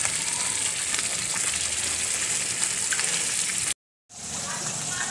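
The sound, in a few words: curd added to spiced vegetables frying in pan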